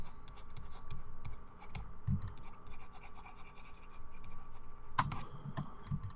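Light, close scratchy rubbing of an eraser on a line-art drawing over a low steady hum, with a couple of soft thumps as the strokes go on.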